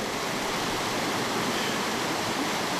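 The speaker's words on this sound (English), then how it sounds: "The waterfall is around 20 metres high" A waterfall about 20 metres high in the Republic of Adygea, Russia, roars as a dense, unbroken rush of falling water, loud and close with no voices.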